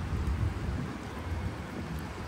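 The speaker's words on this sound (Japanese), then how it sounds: "雨めちゃめちゃきつなってきた。" Heavy rain pours down in a steady, dense hiss with a deep rumbling undertone, loud and continuous throughout with no voices, in a Russian city during wartime.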